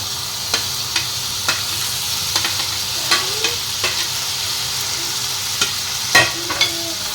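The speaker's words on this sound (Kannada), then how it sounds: "ಸೊ ಇದಷ್ಟನ್ನು ಸ್ವಲ್ಪ ಫ್ರೈ ಮಾಡಿಕೊಂಡು ಇದಕ್ಕೆ ನಾನು ಕಟ್ ಮಾಡ್ಕೊಂಡಿರುವಂತಹ ಬೆಂಡೆಕಾಯನ್ನು ಹಾಕೋದು" Cut okra fries in a pan with a continuous close sizzle while a spatula scrapes and taps it at a regular, unhurried rhythm, several distinct strokes over the hiss and no speech.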